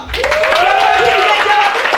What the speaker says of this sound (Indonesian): coba tolong tepuk tangan dong